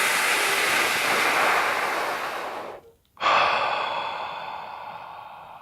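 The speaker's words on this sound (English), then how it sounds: "now I'd like to in through my mouth and out through my mouth" Deep breathing in and out through the mouth for athletic performance: a long, loud, airy breath fades away, then after a brief silence another strong breath rushes in and slowly tapers off, heard close up.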